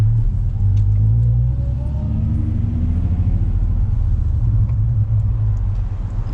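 A Nissan 350Z heard from inside while driving around the block, a steady deep engine rumble with low road drone, loud and continuous with slight rises in pitch.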